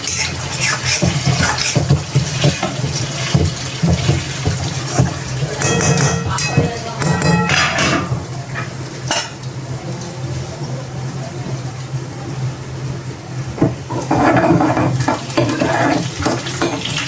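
Brinjal curry being stirred in a pan: wet sizzling and scraping with clinks of a utensil against the pan, steady throughout and louder near the end.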